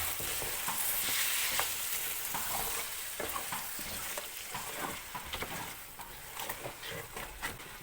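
Chicken masala for a traditional Thalappakatti chicken biryani is stirred in a pot, with a steady, close sizzle of frying broken by the scrape and patter of the spoon moving through it.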